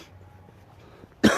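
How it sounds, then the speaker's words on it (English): After a near-silent stretch, a single loud, harsh cough bursts out close by at the very end. "I've still got this cough with me as well."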